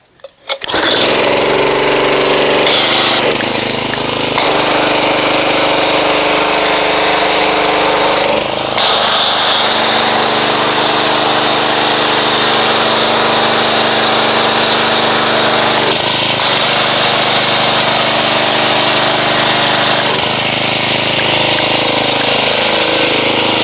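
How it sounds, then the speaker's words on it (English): An MTM PF22 foam cannon on a pressure washer roars continuously and loudly while foaming a car engine with deep crystal car soap, a steady mechanical drone with slight shifts in pitch throughout. "we're going to go ahead and foam the engine."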